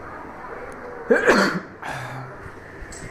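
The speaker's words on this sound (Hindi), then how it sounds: "सर, आपको ऐसे छींक आई ना" A man sneezes once, a short sharp burst in the middle of a physics lecture on ray optics, close and fairly loud, with quiet room tone around it.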